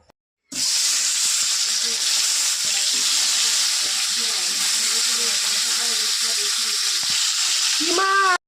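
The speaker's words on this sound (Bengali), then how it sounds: "তেল কিন্তু খুব সুন্দর গরম হয়ে গেছে, এবারে কিন্তু আমি মাছগুলো ছেড়ে দেবো" Fish dropped into hot oil in a wok set off a loud, steady frying sizzle that starts abruptly and holds strong for several seconds, close up, with no talk.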